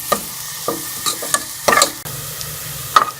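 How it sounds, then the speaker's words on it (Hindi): Onions are browned in a pan for potta kaleji, a low steady sizzle broken by several scraping stirs of a spoon against the pan, close up with no talking. "प्याज को डाल के मैं ब्राउन कर लूंगी।"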